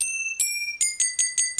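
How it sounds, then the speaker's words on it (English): A Malaysian finger cymbal or bell struck in a quick series of about seven bright metallic rings, each ringing on clearly, used as a Pac-Man World 2 game sound. "Malaysian finger cymbal or bell."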